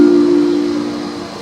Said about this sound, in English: Let's take a look at some of the different trains here.